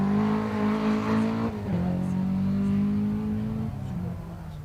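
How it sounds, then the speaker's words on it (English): A rally car pulls away from the start line of a stage, its engine revving and accelerating loudly with a gear change partway through, heard from a nearby office with a voice talking over it. "I've just heard another car off the start here."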